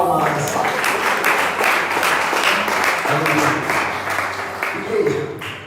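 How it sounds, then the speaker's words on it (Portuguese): A church congregation claps in praise during a sermon on Psalm 127, loud, close and sustained clapping with a few voices and cheers mixed underneath. "você que pode louvar o Senhor com as suas palmas"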